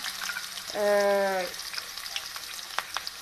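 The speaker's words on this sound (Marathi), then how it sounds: "तेल गरम झालेलं आहे हिरवी मिरची लसूण आणि प्याज टाकून देते मी" Green chili, garlic and onion hit hot oil in a home kitchen, giving a short burst of loud sizzling that settles into a softer, crackling fry with occasional small pops.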